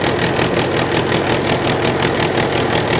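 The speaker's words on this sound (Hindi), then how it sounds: "ये जो ट्रैक्टर चल रहा है 12 की स्पीड पे ट्रैक्टर आसानी से चल रहा है" A tractor running a Malwa multicrop thresher in the field, a loud, steady mechanical drone with a fast pulsing beat from the thresher, close and constant throughout with no talk.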